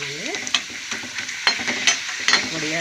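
Papad frying in hot oil, a steady broadband sizzle with several sharp crackles and stirring scrapes spread through it, close and fairly loud, with no talk.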